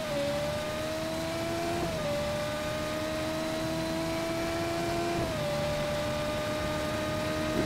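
Mugello Farina Duo race car in Just Cause 3 screaming at high revs, with a steady tonal engine whine that drops in pitch twice at gear shifts, close and continuous with road noise.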